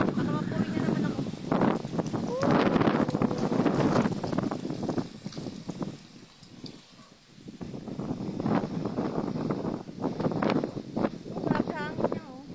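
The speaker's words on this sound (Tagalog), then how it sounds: "Grabe hangin niya Uy." Strong outdoor wind buffets the microphone in loud rumbling gusts that ease briefly midway and then return, while a person talks over it throughout.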